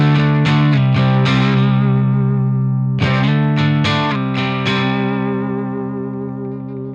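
A thick, distorted electric guitar through a Bad Cat Cub 40R tube amp with the fat switch on strums a few heavy chords with rich overtones, each ringing out and slowly fading.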